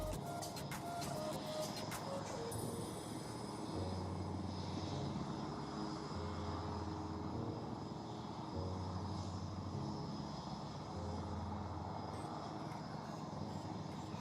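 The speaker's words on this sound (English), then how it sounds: "हवा से सूचना का संचार करने वाला, हवाई सुरक्षा की जिम्मेदारी उठाने वाला, विजयी सपनों को पंख लगाने वाला नेत्र आपकी नजरों के सामने उड़ान भर रहा है।" A Netra airborne early warning aircraft of the Indian Air Force flying past at the Aero India 2021 air show, heard as a steady, continuous engine drone at moderate distance with no talk.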